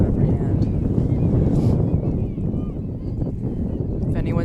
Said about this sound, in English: it's very, very windy out here